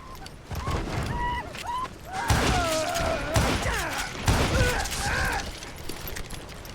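Shootout gunfire from Call of Juarez Gunslinger, with several heavy thumping shots and clattering impacts under a busy layer of voices and whooping cries, loud and close throughout.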